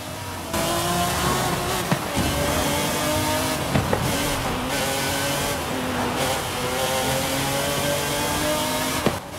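A 1997 McLaren F1 GT in Forza Horizon 5 roars loudly and continuously, with its engine revving up and down through repeated gear changes and no voices.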